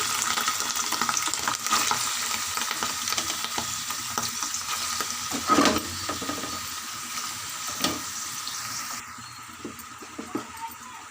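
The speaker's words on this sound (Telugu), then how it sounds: "ఆయిల్ హీట్ ఎక్కిన తర్వాత అయితే మనం క్లీన్ చేసి పెట్టుకున్న పొట్ట పేగు ఉంది కదండి బోటి ఆ బోటిని అయితే ఇట్లా ఆయిల్లో వేసేసుకోవాలి" Cleaned goat tripe (boti) fries in hot oil with a continuous close sizzle and crackle, joined by occasional spatula scrapes and stirring knocks.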